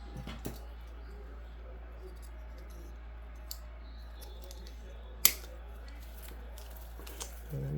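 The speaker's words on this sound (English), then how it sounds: "So I think I'm gonna cut it right here." Scissors snip through craft flower stems in a few sharp, isolated clicks, one louder cut standing out among quieter ones in a mostly quiet room.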